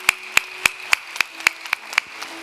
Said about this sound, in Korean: 우리 박수하십시다.